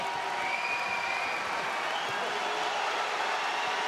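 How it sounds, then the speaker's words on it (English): A dense arena crowd at an OKTAGON MMA fight in Bratislava cheers and roars steadily, a continuous wall of noise throughout. "you can hear the crowd, you can hear Bratislava cheer on their Prince"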